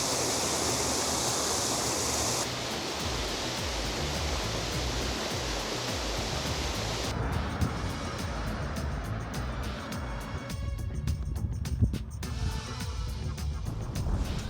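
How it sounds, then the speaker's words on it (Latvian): Rumbiņas waterfall rushes in a steady, broad roar heard from nearby, a constant wash of falling water with faint background sounds toward the end. "Kur arī Rumbiņas ūdenskritums."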